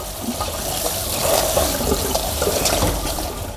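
Glutinous rice is rinsed in water, with a continuous close swishing and sloshing of liquid that swells slightly midway, and no talking.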